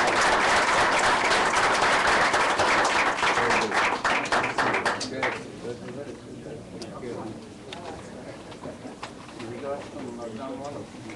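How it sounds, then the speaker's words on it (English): Audience applause for a panel at an academic event on the Arab Spring, loud clapping at first that thins out after about five seconds, followed by quieter room noise and talk. "A collective round of applause for our panel."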